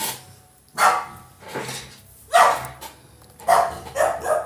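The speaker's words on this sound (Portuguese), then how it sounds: "É que deu briga de gato e cachorro." A dog barks in the middle of a cat and dog fight, about five or six sharp, close barks coming in an uneven rhythm, with brief quiet gaps between them.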